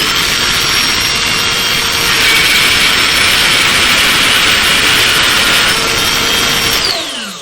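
A Ryobi cordless router cuts about a quarter inch deep into pine during freehand sign carving. It makes a loud, continuous high whine and rough roar, steady throughout, then cuts off abruptly at the end.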